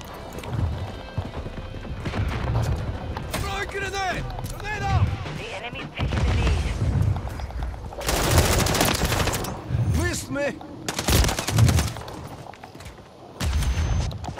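Call of Duty gunfire comes in rapid bursts and single shots over hoofbeat-like thuds and game sound effects, while voices shout in-game callouts throughout.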